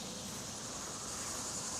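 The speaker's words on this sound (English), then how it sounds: "See the cicadas going nuts today." Cicadas buzz in a late-summer garden, a steady high hiss that is faint and continuous with no voices.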